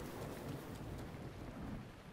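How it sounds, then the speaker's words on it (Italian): A thunderstorm in the video game Zelda Breath of the Wild, with a faint, steady rush of rain and low rumbling thunder from lightning strikes, no voices. "Questi fulmini cercano attivamente di colpirmi, sembra quasi."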